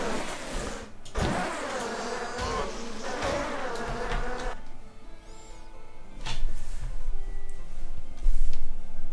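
A wasp's insect buzz from the fantasy online game Ashen Empires drones steadily through the scene, joined by brief game effect sounds, with no voices.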